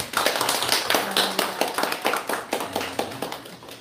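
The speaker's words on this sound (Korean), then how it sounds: "우리 환영의 박수 하시죠" A small church congregation clapping in welcome, distinct individual claps in a loose, uneven rhythm, fairly close and moderately loud, with no talk over them.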